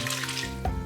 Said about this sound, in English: And then now I'll add some water.